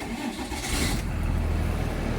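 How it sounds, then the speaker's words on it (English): A Bluebird school bus engine restarts during an air brake pre-trip check, a broadband crank burst giving way to a steady low diesel rumble that settles into idle, close and fairly loud with no talking. "I'm now going to restart my bus."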